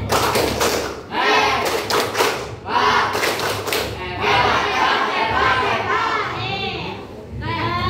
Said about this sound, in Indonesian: Kita tepuk hebat coba.